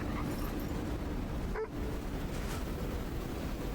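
A dog whimpering in the video game Kona II: Brume, soft yips and whines rising briefly over a steady windy, wave-like ambient bed with no talking.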